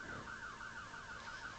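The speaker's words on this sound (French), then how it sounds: "Ça ressemble à des sirènes." A video game siren wails in a steady, rapid up-and-down warble, faint and distant over a low background hum with no voices.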